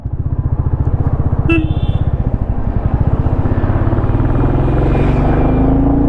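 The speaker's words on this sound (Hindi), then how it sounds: "बाइक के एग्जॉस्ट का जो थंब है ना वो बहुत बढ़िया है" A Royal Enfield Classic 350 motorcycle running with a steady, rapid low exhaust thump, close and loud throughout, with a brief higher whine partway through.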